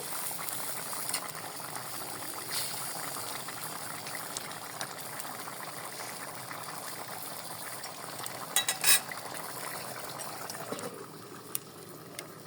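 Rohu fish curry with drumsticks bubbles steadily in a pot, a continuous soft simmer with a few faint clicks and knocks near the end.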